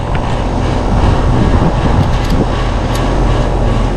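An HVAC condenser fan motor runs steadily with a broad, constant whooshing drone of airflow, loud and close with no break throughout.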